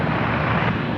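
A heavy jet departs Sydney Airport at night, its engines a loud, steady roar that holds unbroken throughout with no voices over it.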